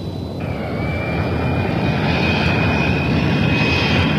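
A B-1 strategic bomber jet flies overhead with a loud, continuous roar of engine noise and a high whining tone running steadily throughout, heard alone without talk.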